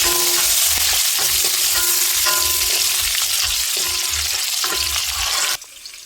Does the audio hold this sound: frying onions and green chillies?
yes